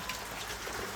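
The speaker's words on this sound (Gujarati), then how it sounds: "હજુ રાતનો વરસાદ હજુ ચાલુ છે" Heavy overnight rain pouring continuously at Siddhpur crossroads in Patan, a dense, even roar of drops close by with no voices.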